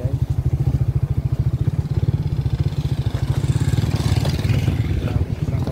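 A motorcycle engine chugs in a fast, even pulse while riding along a muddy road, close and loud, with a rough clattering edge and a slight rise in pitch toward the end.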